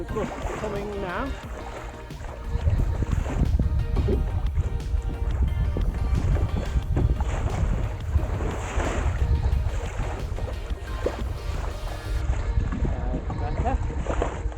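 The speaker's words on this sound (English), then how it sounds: "So there's the gust coming now." Wind gust building while sailing a small reefed boat off the Lunga Estate in Scotland, a loud steady roar of wind and rushing water that swells and holds, with a voice speaking briefly at the start.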